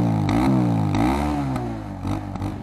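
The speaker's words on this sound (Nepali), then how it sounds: "आज एक्जस्टको त्यहाँदेखि सुनिराख्नुहोस्" A motorcycle on its stock exhaust revs up and down nearby, a low mechanical rumble that rises and falls in several short surges.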